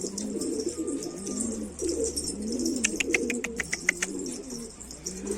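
Pigeons coo in repeated low, rolling phrases close by, with a burst of rapid wing claps partway through and faint chirps in the background, no talking.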